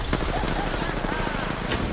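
Gunfire in the video game Apex Legends, rapid bursts of shots over dense, constant game noise, loud and close, with a voice talking underneath.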